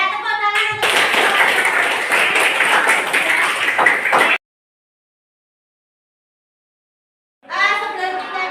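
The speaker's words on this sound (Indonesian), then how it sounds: "tepuk tangan untuk" Applause from a class during an Indonesian computational-thinking lesson: a dense burst of clapping lasts about three and a half seconds, then stops abruptly into silence before a voice resumes speaking.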